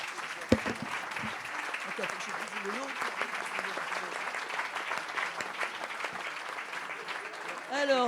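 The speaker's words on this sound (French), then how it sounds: "on peut encore vous applaudir" Audience applauding at a prize-giving ceremony for a short-story competition in Allauch, a steady stretch of clapping from a seated crowd, with a voice speaking over it near the end.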